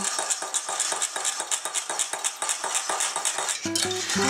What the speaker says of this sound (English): And just take a moment and just whisk it in.